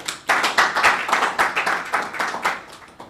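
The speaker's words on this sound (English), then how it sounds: "Please, can we give him another round of applause?" A small group at a political address in Lagos claps steadily for about three seconds, a close, brisk patter of hands with no voices over it.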